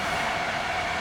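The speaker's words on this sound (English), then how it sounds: "That's real German train here." German train passing close by, a loud continuous rumbling roar with rail noise filling the whole moment, no talk.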